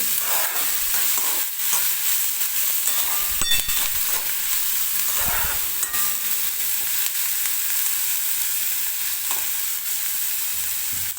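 Onion and a few green chilies fry in oil in a pan, giving a steady close hiss and crackle with occasional stirring scrapes and no talk.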